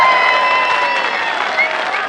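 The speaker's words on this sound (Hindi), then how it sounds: "हाथ उठाकर तालियों की गूंज में बताइए, इमरान खान से कितना प्यार करते हैं" A large crowd at a PTI political rally in Mianwali, Pakistan, applauds loudly and continuously, a dense sustained roar of clapping filling the whole stretch.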